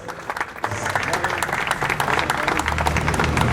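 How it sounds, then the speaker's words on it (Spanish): Audience applause at a tribute event, dense clapping that builds after the first half-second and holds steady, with some voices mixed in. "Fuerte el aplauso, señoras y señores."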